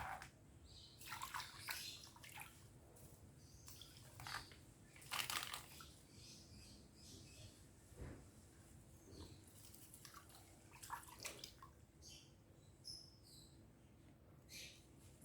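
Plants, a grass-like wild shallot with leaves resembling cogon grass, are washed in water, producing intermittent splashing and rustling bursts over a quiet background of faint insect chirps, without talk.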